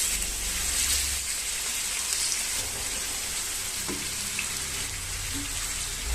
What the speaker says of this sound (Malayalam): ഇനി ഓരോ ചിക്കനായിട്ട് ഇതിലേക്ക് ഇട്ട് കൊടുക്കാം.